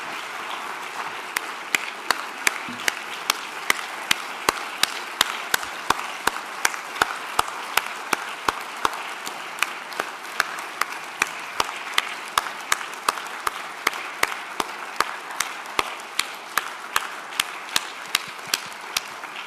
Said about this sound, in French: la chaleur de ces applaudissements